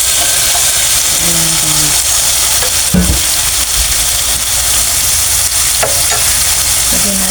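Sliced ampalaya (bitter gourd) sizzling in a hot frying pan, a steady loud hiss with a few scraping stirs and clinks, and a voice speaking briefly.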